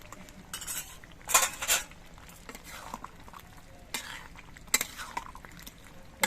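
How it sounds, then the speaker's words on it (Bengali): A spoon stirring roasted spice powder into a cooked jackfruit and potato curry in a pot, with scattered metallic scrapes and clinks against the pot's side between quieter pauses. "সব কিছু দিয়ে মশলাটা মিশিয়ে দিচ্ছি"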